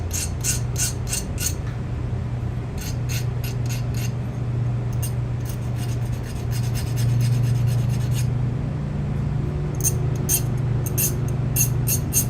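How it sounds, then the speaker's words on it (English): Rasping strokes of a metal file on the tops of a chevron-patterned workpiece, repeated in quick bursts with short pauses, close and fairly loud over a steady low hum. "And then we're going to file the tops."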